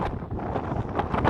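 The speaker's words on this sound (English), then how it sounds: "It's windy again." Gusty wind buffets the microphone outdoors, a steady broadband roar that swells and surges in uneven bursts, close and fairly loud with no voices.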